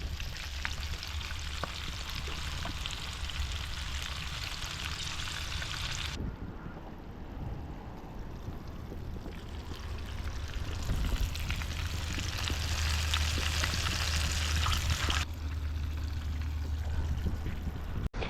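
Fresh catfish fries in a pan aboard a boat on a river, with a dense crackling sizzle that drops away briefly midway and then returns, over a low engine-like rumble and occasional clatter.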